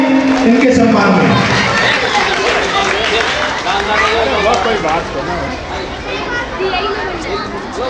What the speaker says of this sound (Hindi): जोरदार तालियां होनी चाहिए इनके सम्मान में